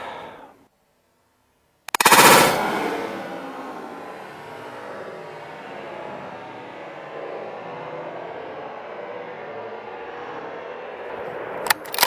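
A single close, loud shot from a suppressed Steyr THB bolt-action rifle fired from a braced position: a sharp crack followed by a long decaying rumble that fills the rest of the clip, with a faint click near the end.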